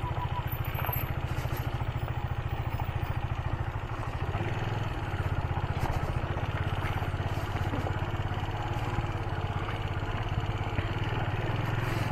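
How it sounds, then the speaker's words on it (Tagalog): Motorcycle riding along a road near Maragondon, its engine a steady low, throbbing drone with a rapid pulse, close and continuous under rushing wind and road noise. "May motor pala sa likod natin guys."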